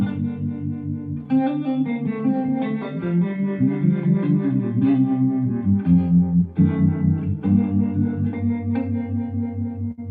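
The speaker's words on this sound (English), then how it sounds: "And the Flint also has tremolo on the end of it too." A continuous electric guitar passage through a Strymon Flint tremolo pedal, with a pulsing, wavering volume effect, sustained chords shimmering and swelling throughout.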